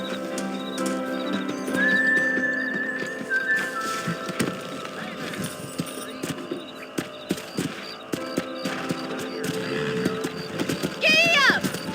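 In Red Dead Redemption, horses clip-clop along at a ranch, with hoofbeats, neighs and a whinny under ongoing character dialogue, plus faint ambient tones.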